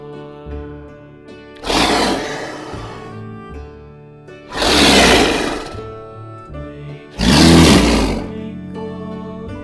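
Three loud, breathy roars of a big cat, a leopard, each lasting about a second, evenly spaced over steady background music.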